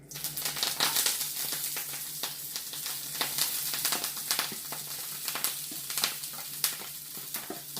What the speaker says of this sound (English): we're gonna go ahead and cook down the onion and the kale